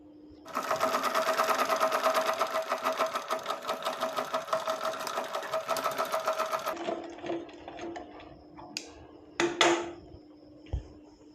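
A sewing machine stitches fabric for baby pajamas in a long, fast, even run up close, then stops, leaving a few soft clicks and handling knocks of fabric and parts.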